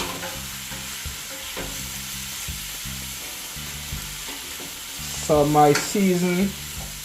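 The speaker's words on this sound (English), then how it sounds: "is being sauteed as I want to get the flavor out of the season into our cabbage" Seasoning sizzles and gets stirred in hot coconut oil for a cabbage and saltfish dish, a steady frying hiss with scraping stirs, while a person talks over it.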